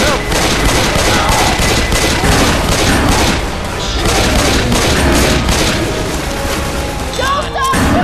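Dense gunfire in Left 4 Dead 2 during the Dark Carnival campaign, rapid overlapping shots and bursts with booms, loud and continuous for several seconds, with players talking over the shooting.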